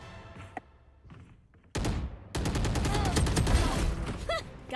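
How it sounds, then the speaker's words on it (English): Gunfire erupts in a first-person shooter game: after quiet clicks and faint sounds, a loud burst of rapid shots follows, with repeated sharp cracks continuing over a dense, noisy background. "Yes, that's a gun."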